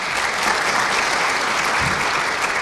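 Audience applauding an academic advisor at a student recognition tea, a full, continuous round of clapping from a roomful of people, even and strong throughout with no voices over it.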